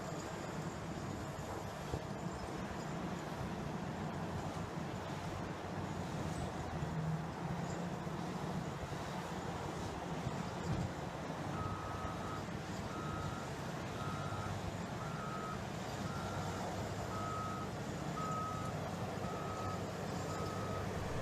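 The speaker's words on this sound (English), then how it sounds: "In this operation, the loader approaches the pile, digs deep into the material, and efficiently fills its bucket." A Caterpillar 993K wheel loader works a material pile at a steel plant, a steady diesel rumble with wind noise under it, and a reversing alarm beeping at a regular rhythm through the second half.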